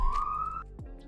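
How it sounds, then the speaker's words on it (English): A police siren's single rising wail sounds briefly in the distance in a city, then cuts off, with a low rumble beneath. "Sorry about the sirens in the background."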